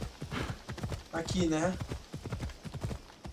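Horse hooves clip-clopping in the video game Assassin's Creed Odyssey, rhythmic hoofbeats with a brief whinny, partly under someone talking over the gameplay.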